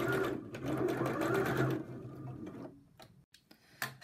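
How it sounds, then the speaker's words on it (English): A sewing machine stitching seams on fabric, a fast steady close mechanical whirring run that stops near the two-second mark, followed by a few quiet clicks and handling taps. "machined encasing the seams in there to make it nice and neat"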